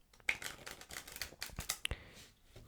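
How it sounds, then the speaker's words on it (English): Playing cards riffled down a deck for a card trick: a quick run of close, crisp, papery flicks and snaps, uneven in rhythm, heard alone in a quiet setting. "I will just riffle down the deck"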